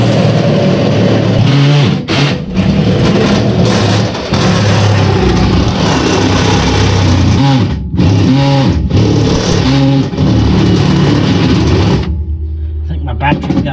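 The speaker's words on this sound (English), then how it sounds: "So we're drilling in." A loud, steady whining cordless drill grinds continuously through metal with shifting pitch, pausing briefly a couple of times before cutting off near the end.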